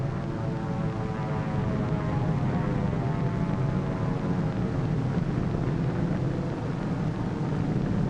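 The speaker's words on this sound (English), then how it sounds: "Here is one of the drone airplanes flying over the target fleet after the blast" Steady droning engine of a drone airplane flying over the target fleet at Bikini after the Operation Crossroads blast, a continuous even hum with wind-like noise and no breaks.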